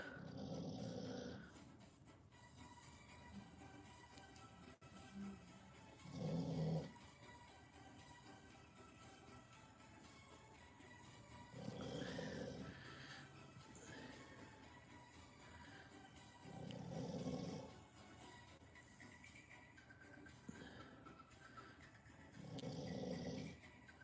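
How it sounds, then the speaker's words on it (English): A small dog snores softly at close range, each breath a low rasping snort that recurs every few seconds in a quiet indoor room, with no talking. "she can hear my dog snoring"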